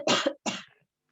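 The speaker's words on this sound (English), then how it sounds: "Sorry if I'm coughing, guys." Two quick, close coughs in a row from a lingering post-COVID cough, the second slightly softer, then silence.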